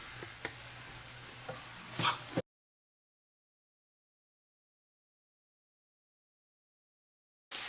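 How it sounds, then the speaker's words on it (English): Onion and celery sizzle softly in a pan while a spoon clicks and scrapes through them, a short close burst of frying that stops abruptly into a long silence, then returns briefly at the very end. "you want to cook that onion and celery until it's tender"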